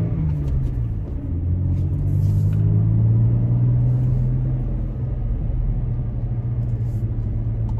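Steady engine and road rumble fill the cabin of a Toyota Tacoma on aggressive off-road tires as it drives a paved street at low speed, a continuous loud drone with no talking.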